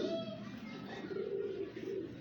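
A pigeon coos softly and steadily at close range, low rounded calls repeating over a light background murmur.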